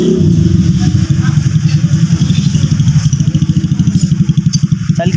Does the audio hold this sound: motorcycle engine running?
yes